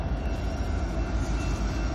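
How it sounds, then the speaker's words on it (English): A train passes nearby as a steady, loud rumble with a faint high whine over the top, and no talking. "Is that a choo-choo train?"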